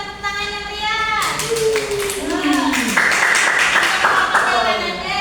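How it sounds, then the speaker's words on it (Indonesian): Children in a classroom break into lively applause of dense, rapid clapping that builds over several seconds, with a voice and chatter heard before and under it. "kita berikan tepuk tangan yang meriah"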